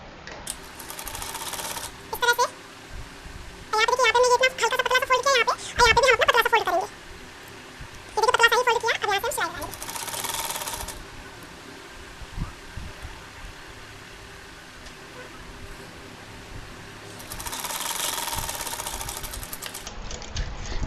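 A sewing machine stitches the side seams of a small summer dress for a doll, running in several separate bursts of steady mechanical whirring, close and moderately loud, with quiet pauses in between.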